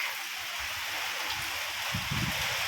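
Steady, dense rain hiss fills the air, a continuous wash of drops with a few low thumps underneath and no voices.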